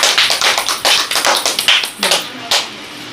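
Audience at a Rabindra Jayanti evening program claps in a dense, uneven patter of sharp hand claps, loud and close, thinning into a few scattered claps toward the end.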